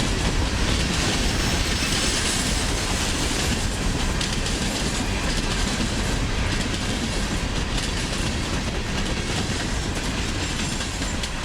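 A freight train on the daily Waycross to Miami run rolls past in central Florida, a loud, continuous rumble of wheels and cars with faint rhythmic clatter, sustained and close for the whole stretch.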